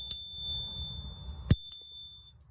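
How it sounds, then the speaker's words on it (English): A small bell on an Aovopro Tmax full-suspension scooter rings with sharp metallic dings: one ding, then a clear strike followed by a quick second ding. The tones are bright and close, and they ring on over a low background hum. "It also has a little bell."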